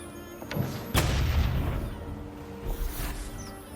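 Grand Barrage artillery bombardment in the strategy game Total War: Elysium: a heavy low boom hits early, then a rumbling, rolling wash of distant blasts sustains beneath faint game tones.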